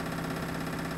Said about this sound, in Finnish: Käynnistä kompressori moottorin suojakytkimestä.